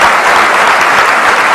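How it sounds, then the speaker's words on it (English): Loud, dense applause from a large audience at a medical association gathering welcoming a chief guest, continuous sustained clapping close and full throughout. "Big round of applause, please."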